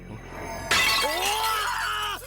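Shattering glass collection sound effect: a sudden loud crash of breaking glass followed by ringing, tinkling shards that fade out over about a second and a half.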